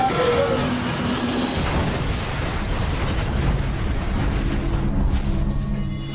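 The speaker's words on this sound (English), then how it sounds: "The fiery explosion and sudden impact with the ground has all but obliterated Flight 2120." Flight 2120 hitting the ground in a fiery plane crash, a loud sustained roar of explosion and rumbling debris that swells, holds for several seconds and then eases.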